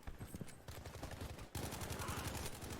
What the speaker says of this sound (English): the nice little headshot with the STG